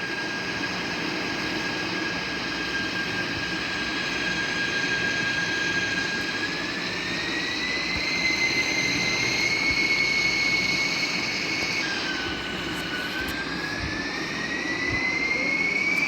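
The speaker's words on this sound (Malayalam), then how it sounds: "ഇപ്പം വന്ന് നമ്മുടെ ബിഗ് ജെറ്റ് പാക്ക് നമ്മുടെ കൺട്രോളിൽ നിൽക്കാത്ത അവസ്ഥയിലാണ്." Big jet pack flying out of control in the Indian Bike 3D game: a sustained jet-engine roar with a whining tone that rises and shifts pitch, loud and continuous.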